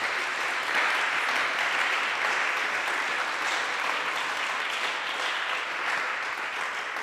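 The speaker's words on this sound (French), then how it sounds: "je vous propose d'applaudir les intervenants" A conference audience applauds the speakers at a talk on inequality, ecology and democracy: steady, dense clapping from a crowd fills the whole stretch at an even level, with no voices over it.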